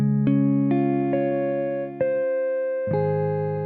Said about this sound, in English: One of my favorites from this category is the jazz